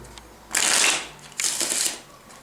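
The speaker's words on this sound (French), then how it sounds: "Après, on mélange les jeux." Two quick bursts of a deck of playing cards being riffle-shuffled, crisp fluttering close to the ear with a short pause between, no speech.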